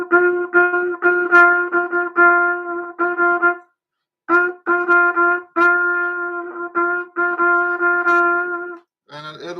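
Trumpet improvising over a bossa nova with a single repeated note in short rhythmic phrases separated by rests, clear and close, with a brief lower sound at the very end.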